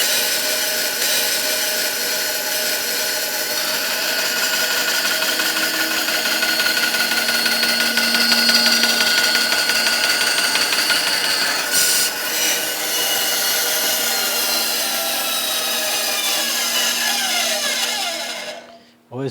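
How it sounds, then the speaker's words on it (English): A bandsaw cuts through a resin pen blank with a steady, loud motor drone and cutting hiss that holds for a long stretch, then spins down at the end. "We'll turn the bandsaw on."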